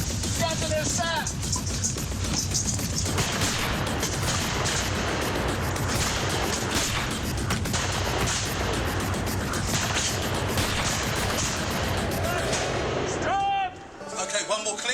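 Rifles fire again and again on a film set for the making of Hatfields & McCoys. Loud cracks and booms overlap with shouting voices throughout, with a dense, continuous din that drops away briefly near the end.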